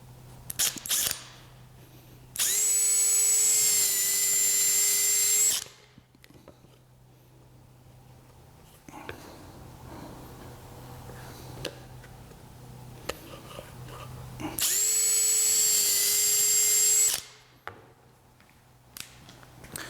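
A drill fitted with a 3/16 bit bores into a double nail pad, giving two sustained, loud whining runs of about three seconds each, with quiet handling noises and a low hum between them.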